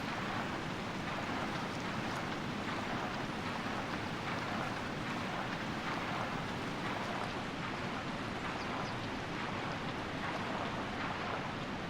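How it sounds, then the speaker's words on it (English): Boat pushing up river rapids in the video game Tomb Raider 3, Madubu Gorge level: a steady, loud wash of rushing water and engine churn filling the whole stretch without pauses. "Now let's head up these rapids over here."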